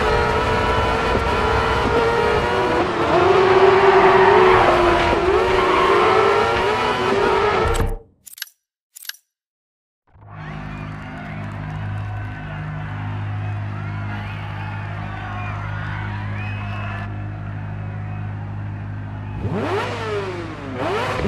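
Crosskart race cars in DiRT 4, engines droning and revving loudly before dropping to near silence, then a lower steady idle hum returns with a rising rev at the end, a voice talking over parts.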